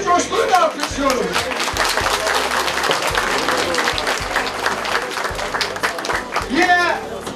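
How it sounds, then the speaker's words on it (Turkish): A festival crowd at outdoor wrestling festivities in the rain breaks into sustained applause for a visiting minister, dense clapping that runs throughout while an announcer's amplified voice speaks over it. "Sayın Bakanımızı coşkuyla alkışlıyorum"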